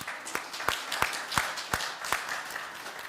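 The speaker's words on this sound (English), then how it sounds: "Can we give them a round of applause?" A small church meeting applauds in a room after an election, the claps sharp and irregular, moderately loud, lasting throughout with no talking.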